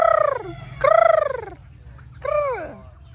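Several loud turkey-like gobbles and warbling calls from native chickens, three distinct bursts close by over a faint background hum.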